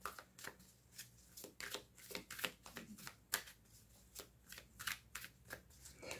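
Tarot cards shuffled by hand in a quiet room, a series of soft crisp riffles and flicks in irregular bursts, close and faint.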